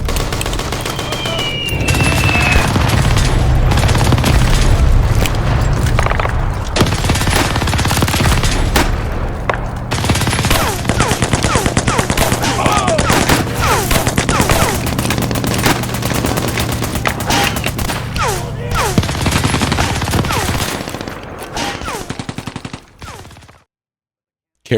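Sustained M2 machine gun fire in a battle reenactment of the 101st Airborne's fight at Carentan in Normandy, loud continuous bursts and booms filling nearly the whole stretch before cutting off at the end.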